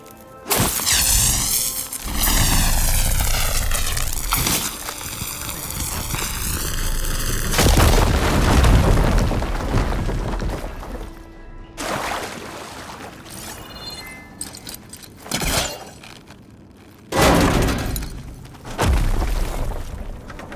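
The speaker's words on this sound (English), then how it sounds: "Should be able to blow up that fire gleam." In Horizon Forbidden West, a firegleam rock wall inside a cave is blown apart: a deep booming explosion with rumbling debris, then swooshing effects and several further heavy thuds and bursts separated by quiet gaps.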